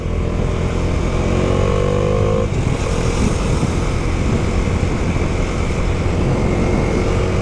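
Motorcycle riding through traffic while splitting lanes on a ride home in Brazil, loud steady engine drone that holds close throughout with no talk.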